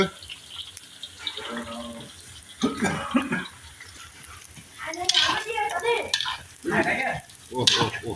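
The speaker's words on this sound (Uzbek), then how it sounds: "Piyozimiz bilan suyagimiz qovurilib, yog'imizga mazasi chiqyapti." Onions and bones frying in oil for Uzbek plov in a cauldron, a steady sizzle with bursts of stirring and scraping, heard under intermittent talk.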